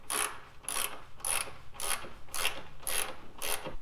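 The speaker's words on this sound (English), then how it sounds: "Next, we'll tighten the 3 nuts up top here. These are again a 15 millimeter." A ratchet wrench clicks in seven quick bursts while tightening 15 mm nuts on the upper shock mount of a 2003-2008 first-generation Honda Pilot, close and loud with no talking.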